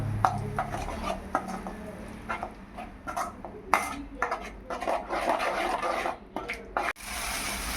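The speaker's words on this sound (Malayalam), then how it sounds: "അരച്ച അരപ്പ് ഇതിലേക്ക് ഒഴിച്ചു കൊടുക്കുക. നന്നായി ഇളക്കി കൊടുക്കുക." Masala paste being stirred in a metal pot, with repeated scraping and clinking of a spoon against the pan in irregular bursts, close and moderately loud, with a steady low hum underneath.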